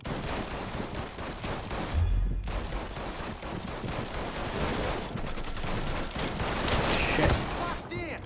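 Sustained gunfire in the video game Mafia 3: dense, overlapping shots and bursts crackle throughout, loud and continuous with brief pauses between volleys.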